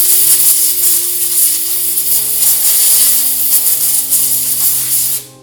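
Compressed air blasts dirt off the rear axle castle nut of a Polaris RZR XP Turbo, a loud, close, continuous hiss that holds steady before cutting off abruptly at the end.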